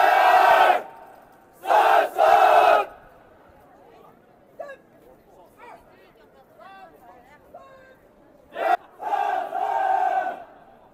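Crowd of visitors at the Forbidden City in Beijing, with loud bursts of voices and calls close by, separated by quieter stretches of low murmur and scattered sounds.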